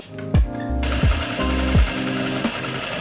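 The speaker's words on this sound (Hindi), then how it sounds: "अब मैं यहाँ से सिलाई लगाना स्टार्ट करूँगा, यहाँ हमारी जिप लग जाएगी" An electric sewing machine stitches a zip into palazzo pants, running in several short, loud whirring bursts that rise and fall, with a steady motor hum between them.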